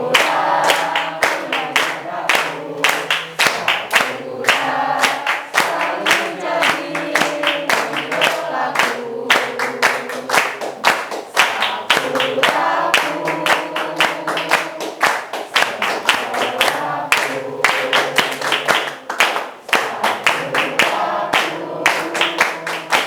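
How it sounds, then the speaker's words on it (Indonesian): A class of schoolchildren claps hands together in a lively, continuous burst of applause indoors, sharp overlapping claps filling the whole stretch without a pause. "Ada tepuk tangannya dong."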